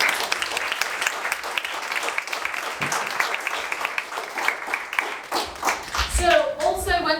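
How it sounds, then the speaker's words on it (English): Audience applause at an evening speaker event on women in the workplace, dense clapping filling the room for several seconds before fading, with a voice and other sounds rising at the end. "a round of applause for our lovely speakers"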